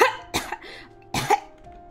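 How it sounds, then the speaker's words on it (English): A man's coughing in Hakuoki: Kyoto Winds: two harsh, close coughing bursts, one early and one near the end, with a short raspy catch between them and no talk. "he coughed as if his lungs were gonna collapse"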